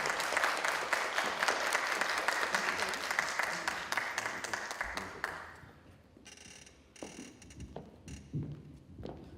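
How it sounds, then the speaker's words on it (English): An audience at a Trotwood Public Schools press conference applauds the interim superintendent. Several seconds of steady clapping thin out into scattered, fading claps and room noise. "Let's give our interim superintendent a big round of applause"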